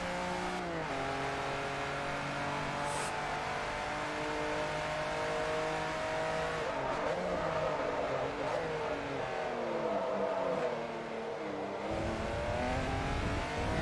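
A TVR race car engine in Forza Motorsport 3 roars continuously, revving up and down through the gears with rising and falling pitch sweeps, loud and close throughout, with no talk.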